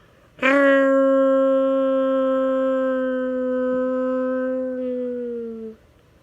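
A person imitates a dog's howl with one long, loud, sustained tone that holds steady for about five seconds, then tapers off and fades out.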